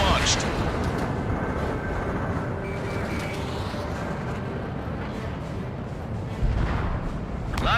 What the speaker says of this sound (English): missile launched.